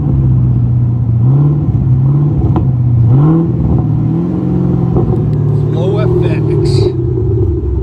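A 2017 Chevy Camaro SS with a 6.2L V8 and a dual Flowmaster FlowFX exhaust rumbles loud and close, its deep note swelling through several rev sweeps over a constant growl.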